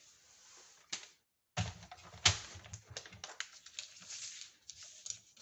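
Scissors or a paper trimmer cut paper squares for a baby album, making close crisp snips and rustles in irregular bursts after a brief pause, with no talking.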